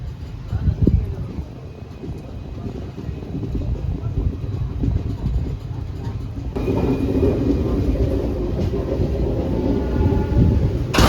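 A passenger train near Mangalore rumbles through a tunnel with a loud, dense, continuous roar and rattle, the sound swelling and growing fuller partway through as the enclosure closes in.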